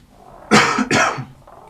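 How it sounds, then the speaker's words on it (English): Two quick, close coughs in a row, sharp and breathy, with near silence before and after. "Cough, cough."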